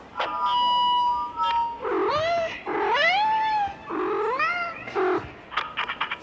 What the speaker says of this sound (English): it sounds like a cat meowing,